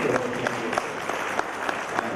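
Audience applause honouring a guest named Darling at a live-streamed event, a moderate crowd clapping steadily with individual claps standing out, fairly even in level across the short stretch.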